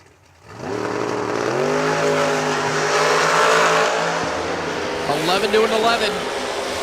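Dragster in a drag race, dialed in at 450, launches from the line and roars at full throttle, a loud sustained engine howl rising in pitch and fading slightly, with an announcer talking over it.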